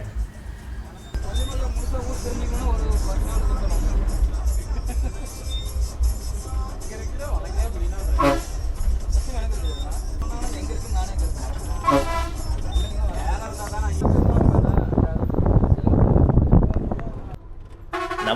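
A small bus climbs a winding mountain road with hairpin bends, its engine rumbling while the horn gives several short toots, people talk throughout, and the engine swells louder near the end.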